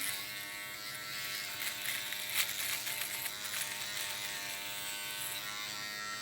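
A Stylecraft Ace 2.0 hair trimmer runs with a steady, close electric buzz throughout while cutting hair, with slight rises and dips in tone.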